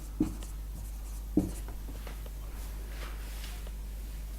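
Numbers are handwritten on a surface in a quiet room, with faint scratchy strokes and two soft taps, over a low steady hum.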